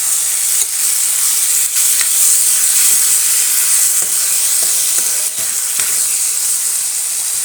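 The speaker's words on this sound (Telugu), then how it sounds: "ఉల్లిపాయలు వేగిని దీనిలో కట్ చేసి పెట్టిన టమాటా మొక్కలు వేసేసుకుని కలుపుకుందాం" Onions and tomato pieces frying in a pan, a steady loud sizzle and hiss throughout with faint occasional stirring clicks.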